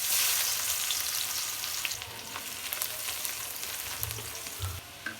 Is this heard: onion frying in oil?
yes